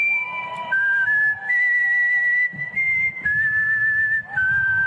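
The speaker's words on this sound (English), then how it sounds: "He whistled the national anthem the other day at the Baltimore Orioles game." A man whistles the national anthem, a slow, stately melody, clear and close, with sustained tones gliding between notes and no talking.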